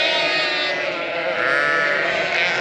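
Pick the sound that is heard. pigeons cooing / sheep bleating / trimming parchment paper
sheep bleating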